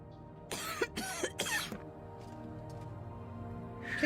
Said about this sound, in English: Please do not cough in my face.